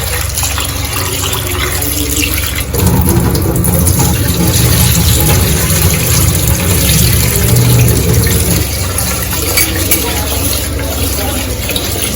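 Rice being washed in water for ghee rice, with continuous loud sloshing and running water sounds close by, steady throughout with a fuller burst after the first few seconds.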